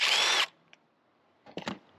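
A power drill spins out a 10 mm screw on a 2015-2019 Jeep Renegade 2.4L, one loud steady whir for about half a second, then a quiet pause and a few close clicks and rattles of the part coming loose.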